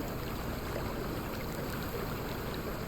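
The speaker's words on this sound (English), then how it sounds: "That's the waterfall" A waterfall in the video game Way of the Hunter gives off a steady, faint rushing wash of water, even and unbroken throughout.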